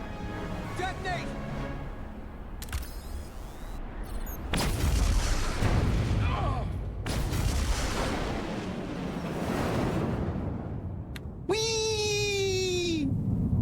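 Booming detonations from the video game Star Trek: Resurgence erupt as heavy, rumbling blasts that roll out, with game voices and other effects around them.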